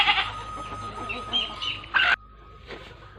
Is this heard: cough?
no